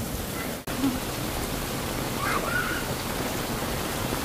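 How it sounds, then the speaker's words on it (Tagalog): Heavy rain pours down in the Philippines, a dense continuous hiss of drops, loud and steady, briefly cut out near the start, with faint distant voices. "ang lakas pa rin ng ulan"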